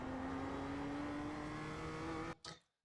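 A BMW M2 race car in the iRacing sim at Oulton Park, its engine droning steadily with a slowly rising pitch before cutting off abruptly near the end.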